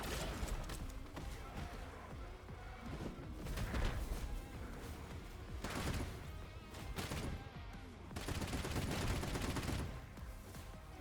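Steady gunfire rattles away at turrets in a video game, dense rapid bursts of shots and crashes layered continuously, fairly faint overall with brief lulls between volleys.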